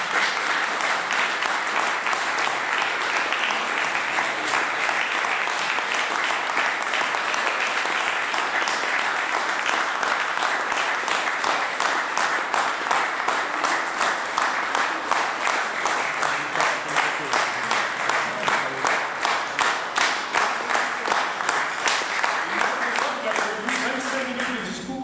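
An audience applauds at an academic palms award ceremony, a loud sustained wash of clapping that settles into a rhythmic, unified beat toward the end.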